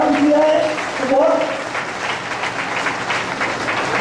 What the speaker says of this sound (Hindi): एक बार इनको इतने तालियों से अनुमोदन करे